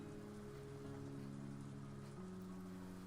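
Soft, steady rain falling on a rose garden in the Umineko visual novel game, a quiet patter under sustained musical tones.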